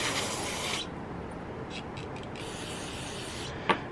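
Short hissing bursts of aerosol cleaner sprayed on small engine parts, one long spray then a second after a pause, close up, ending with a small clack.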